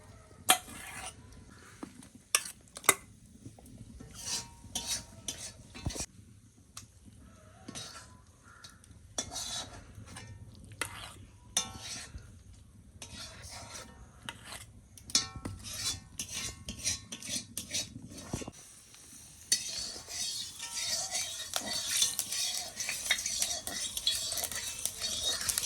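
Metal utensil scraping and clinking against a pan as cooked taro leaf greens are scooped out, a run of quiet irregular scrapes and taps with a brighter, busier rasping toward the end.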